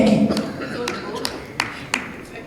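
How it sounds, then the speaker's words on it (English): Audience clapping hands at a live event, a few sparse, separate claps spaced out over the stretch while a voice speaks. "So please give Joe a hand clap while he's here."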